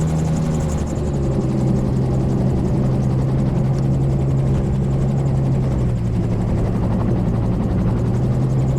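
Gyrocopter engine and rotor droning steadily on a gusty landing approach to Welshpool runway 22, power still applied; a loud, continuous low hum with a slight pitch drop partway through.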